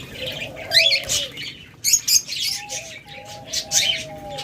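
Pet cockatiels and lovebirds in cages give bright, overlapping chirps and squawks in quick bursts, with a few clear whistled notes and light wing flutters, close and fairly loud.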